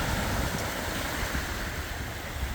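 Sea waves wash onto a sandy UK beach where fossil-bearing clay deposits meet the surf, a continuous roaring rush blended with wind noise on the microphone.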